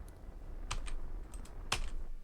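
Computer keyboard typing during a Kerbal Space Program play session, a few sharp key clicks in small bursts over a low steady hum, fairly quiet and close.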